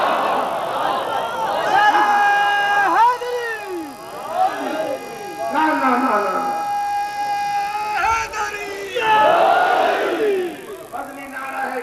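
A large crowd at a religious gathering chants slogans in unison, loud rising call-and-response shouts coming in waves with brief pauses between them.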